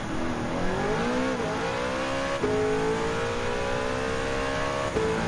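A race car engine in the Gran Turismo 7 racing game revs steadily through rising gears, loud and continuous, with short dips at each shift as it heads into a curve on a Le Mans weekend race, with no talking.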